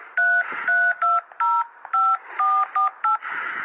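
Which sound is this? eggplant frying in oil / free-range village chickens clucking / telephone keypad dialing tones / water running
telephone keypad dialing tones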